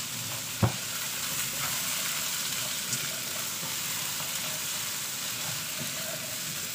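Vegetables brown in a frying pan for a pork kaldereta with a constant, even sizzle, close and moderately loud, broken by a brief clack near the start.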